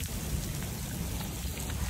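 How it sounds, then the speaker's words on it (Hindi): Heavy rain pours down during a sudden storm, a dense, steady hiss of drops hitting surfaces without a break, fairly close and with no talking. "भाई, बारिश देखें कितनी तेज बारिश आ गई है।"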